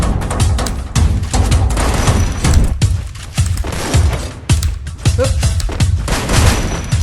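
Rapid, loud bursts of automatic gunfire fill a Garena Free Fire match, shots crackling close in quick repeated volleys with short gaps between them.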